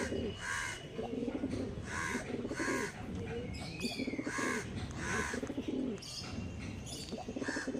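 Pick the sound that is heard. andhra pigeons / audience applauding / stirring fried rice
andhra pigeons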